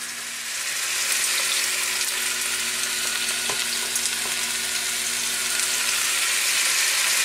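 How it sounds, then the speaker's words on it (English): Onions and meat sweating in a pot produce a loud, continuous sizzle and hiss that stays even throughout, with a faint steady hum beneath and a couple of small knocks. "Now to sweat your onions and your meat"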